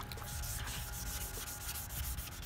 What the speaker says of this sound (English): just wet sand them. Make sure you keep it wet.